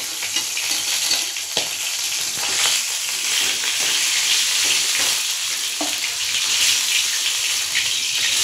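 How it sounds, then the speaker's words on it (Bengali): Stingray fish fries in hot oil, giving a continuous loud crackling sizzle with occasional sharper pops and small surges throughout. "মাছগুলোকেও আমি একই রকমভাবে ভেজে নিয়ে আমি ফেরত আসছি"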